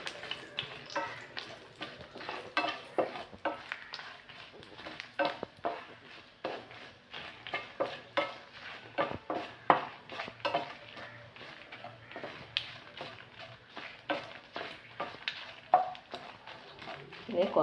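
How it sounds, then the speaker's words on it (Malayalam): Dried red chillies go into hot oil where mustard seeds have already popped, giving soft sizzling under repeated scraping and stirring clatter, close and continuous, with a voice talking over it. "ഇനി അതിലോട്ട് 4-5 വറ്റൽമുളക് ഇടാം."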